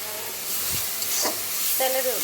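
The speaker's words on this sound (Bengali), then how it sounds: "রসুন, আদা, একটু লং সব কিছু একটু ভালো করে ভেজে নেই" Garlic, ginger and cloves frying in a pan for beef curry, a steady hissing sizzle with a few stirring knocks, a brief voice heard faintly over it.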